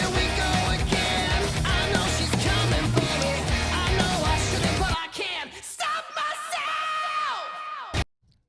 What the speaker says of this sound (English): Good scream there.